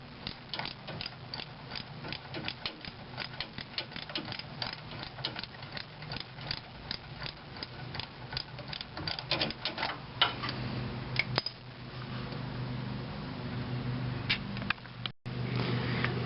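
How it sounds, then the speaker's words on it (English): A ratchet clicks rapidly and steadily while loosening a 10mm nut on the starter of a 2000 Ford F150 with the 5.4L engine, close up, followed by duller metallic scraping and handling noises. "Get a ratchet on there."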